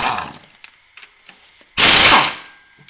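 A few faint clicks come before an impact wrench on a 3800 3.8 engine fires in one loud, close, rattling burst of under a second, spinning out a bolt.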